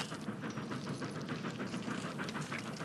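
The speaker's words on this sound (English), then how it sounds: "Train coming." Train approaching on tracks, a faint, steady rolling rumble with soft rhythmic rail clatter and hiss, heard alone and at a distance.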